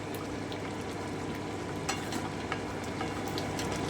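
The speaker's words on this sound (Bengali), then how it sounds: "আমি আরও দশ মিনিট একটু ফুটিয়ে নিচ্ছি" Tomato chicken gravy bubbles and sizzles steadily in a pan over medium heat, a dense continuous simmer with a few soft pops and stirring sounds, fairly quiet and with no voices.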